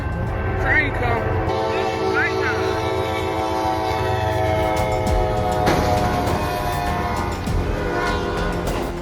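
A train rumbles past close by, its loud horn blaring in long sustained blasts over the rolling clatter of the cars.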